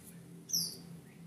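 A green leafbird (cucak hijau) in an aviary gives one brief, high, bright chirp over a low, steady background hum.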